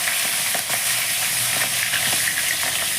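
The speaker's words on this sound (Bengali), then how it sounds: "আমি আর একদিকে মুড়োটাকে কড়া করে লাল লাল করে ভেজে নিই।" A fish head frying crisp and red in hot oil in a pan, with a dense, continuous close sizzle and a few faint stirring clicks, no voices.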